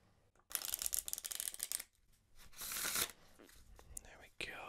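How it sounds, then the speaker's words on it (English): A deck of playing cards is shuffled up close in two quick riffling bursts, crisp fluttering snaps separated by a short pause, then a lighter card sound at the end under soft, faint speech. "Give it a few shuffles."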